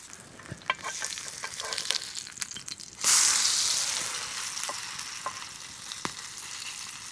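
Potato pancakes fry outdoors in a pan over a campfire in the forest, a steady crackling sizzle with scattered pops that swells into a loud, bright hiss at about three seconds and then settles to a softer sizzle.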